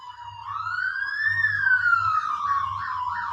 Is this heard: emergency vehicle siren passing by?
yes